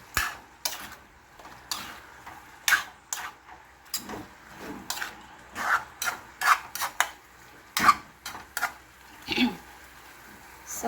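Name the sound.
stirring chicken pininyahang manok in a pot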